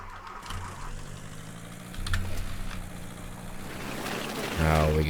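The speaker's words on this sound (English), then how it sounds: "now we get the engine going" In The Long Drive video game, a car engine cranks and catches, settling into a low steady idle that builds slightly louder, with a sharper mechanical burst at the end.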